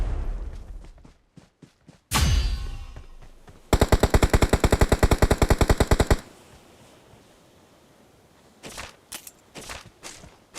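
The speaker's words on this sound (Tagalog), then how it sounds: "Nakita mo yung bumabaril sa likod natin?" Gunfire in the video game PUBG: a few scattered shots, then a loud rapid burst of automatic fire lasting about two seconds, followed by quieter footsteps and a few more separate shots near the end.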